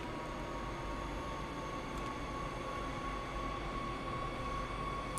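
Rapid transit train idling at a platform in the Train Sim World game, a steady low rumble with a constant electrical whine running throughout, no talk.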